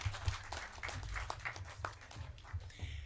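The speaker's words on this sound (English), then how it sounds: "I think Peter deserves a clap that's a little, more hearty than that" An audience claps after a speech at the Kenya Editors Guild Convention in Diani, a moderate, even stretch of many hands applauding, fairly soft and diffuse throughout.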